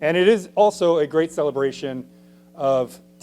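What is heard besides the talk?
No distinct noise like a dog, phone or traffic.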